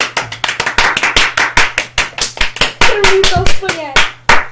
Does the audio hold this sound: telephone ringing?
no